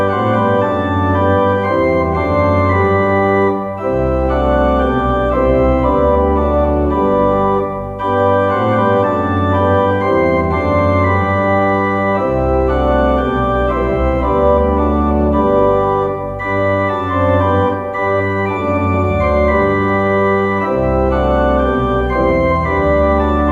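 A church organ plays a verse of the hymn tune Dix in full sustained chords, with brief breaths of silence between phrases at the punctuation points, loud and continuous throughout.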